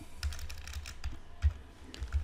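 Typing on a computer keyboard while researching YouTube content, with a quick run of soft, close keystrokes and a few heavier key thumps, no talking.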